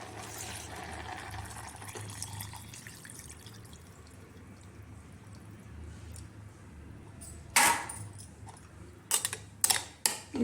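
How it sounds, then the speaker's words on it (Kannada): Water pours into a cooking pot holding rice and wilted greens, a low steady trickle that gives way to a few sharp clinks and splashes near the end. "1 ಅಕ್ಕಿ ತೊಗೊಂಡಿದ್ದೀನಿ, 2 ನೀರು ಹಾಕ್ತೀನಿ"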